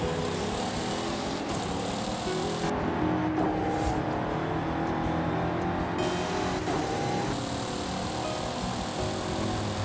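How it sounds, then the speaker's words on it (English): Car engine roaring steadily in the Forza racing video game, a continuous loud drone with shifting pitch as the car drives, with no talk over it. "It's great to be able to hear the engine noise properly now that we have stereo for everything"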